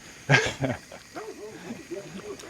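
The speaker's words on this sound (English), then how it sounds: "Dogs out here, man." A tied-up dog barks a few times close by at a roadside during a long cycling descent, followed by softer whining, yelping calls.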